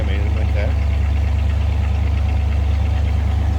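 A 1965 Ford Mustang Fastback idling with an unmodified exhaust and cam: a steady, even low rumble with a fast regular pulse, close and loud, with a voice talking briefly over it.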